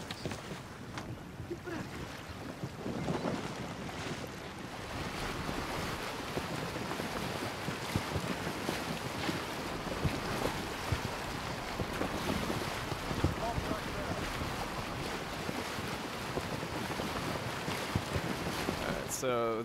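A felucca sailing on water in Assassin's Creed Origins, with continuous wind rush, lapping waves and splashing around the hull heard up close for a long stretch, under game ambience.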